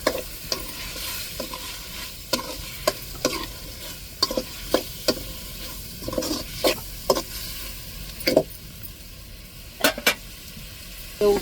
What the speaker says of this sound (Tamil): இப்போ தக்காளி பெரிய வெங்காயம் 2 மிளகாய் சேர்த்துக்கிடுவோம்